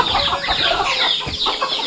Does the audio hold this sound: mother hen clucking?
yes